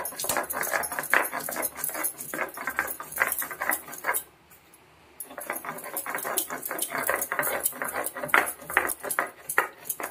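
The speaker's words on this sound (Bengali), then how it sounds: "গরম মশলাটা এবার বেটে নেব" Cardamom, clove and cinnamon are ground by hand into garam masala paste, giving a quick, rhythmic series of scraping, knocking strokes that pause briefly midway, close up with no talking.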